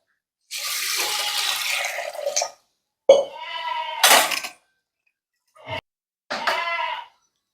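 Water pours from a tap in a steady two-second rush onto lentils set to cook in a village kitchen. Short harmonic bleat-like calls and another brief splash follow against silence.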